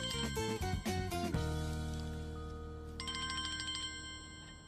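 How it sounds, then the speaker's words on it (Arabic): A telephone rings in a domestic TV drama scene: a bright electronic ringtone plays a quick run of notes and then a sustained chime that fades and rings again, with no talking over it. "تعي جان على التليفون"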